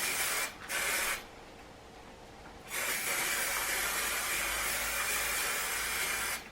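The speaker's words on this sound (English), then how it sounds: "I'm going to spray probably about 8 inches" Spray adhesive hisses onto a quilt top in a short burst, then a longer steady spray of several seconds, close and fairly loud, with no talking.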